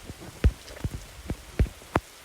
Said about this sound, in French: ça tombe un jour de pluie